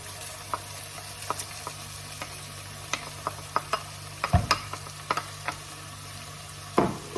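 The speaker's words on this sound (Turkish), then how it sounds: "Şimdi hepsini güzelce karıştırıyorum." Washed lentils, bulgur and rice stirred in a pot for ezogelin soup, a faint background sizzle broken by irregular spoon knocks and scrapes against the pot, with a louder clatter near the middle and again near the end.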